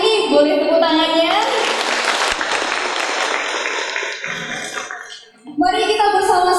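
Community gathering audience at a stunting-prevention outreach event in Banyuwangi claps after the host's call, a burst of clapping between stretches of amplified host speech and music.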